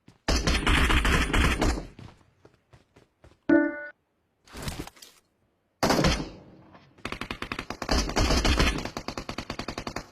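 Bursts of automatic gunfire from a shooter video game crackle in long, dense rapid-fire volleys separated by brief gaps with isolated single shots and thuds, loud and close.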